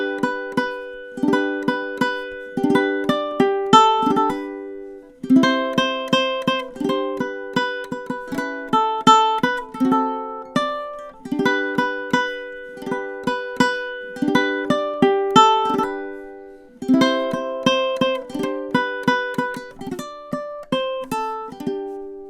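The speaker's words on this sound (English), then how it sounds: "the ultimate Christmas classic, Jingle Bells" Jingle Bells melody picked on ukulele with the thumb, clear single plucked notes in steady repeating phrases, played alone and close.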